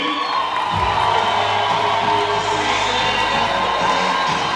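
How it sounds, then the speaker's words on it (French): A large crowd cheers and whoops loudly and continuously at an outdoor rally and recognition ceremony, with shouts mixed into a dense, sustained roar. "Est-ce qu'on peut remonter les acclamations?"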